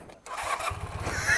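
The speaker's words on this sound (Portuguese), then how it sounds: "Essa aqui é uma moto CB400 Honda, ano 82" A 1982 Honda CB400 motorcycle cranks briefly, then its engine catches and settles into a steady, pulsing mid-pitched idle, close and fairly loud.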